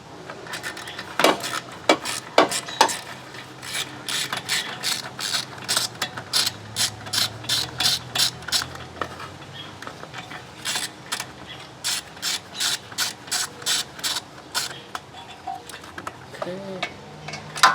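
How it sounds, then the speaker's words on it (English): Hand ratchet tightening the carburetor on a 1983 Honda Elite scooter, with close, crisp clicking in repeated runs of strokes and short pauses between them, plus faint clinks near the end. "We gotta get that little carb tightened up."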